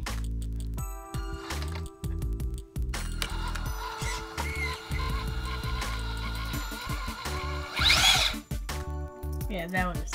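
Small electric motor of a GTR RC toy car running on a partly charged battery, giving a thin whirring buzz that starts and stops in short bursts, heard close up with a brief louder burst near the end.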